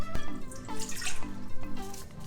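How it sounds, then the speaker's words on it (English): Warm water trickles and splashes into a mixing bowl, a close, bubbly pour with shifting drips and gurgles. "Start by adding a half cup of warm water to a mixing bowl"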